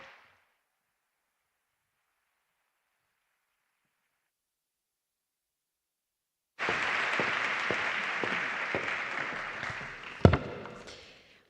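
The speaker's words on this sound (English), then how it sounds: "Big round of applause." Audience applause breaks out at the opening ceremony of a youth conference in Seville, a sudden dense wave of clapping after a long silence, steady for several seconds with one sharp louder clap near the end before fading.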